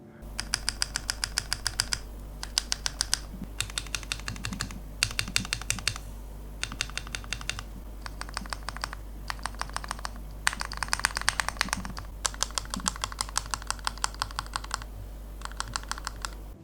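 Mechanical keyboard keys typed in quick clattering bursts while stabilizers are tested for rattle, the clicks close and crisp with short pauses between runs over a steady low hum.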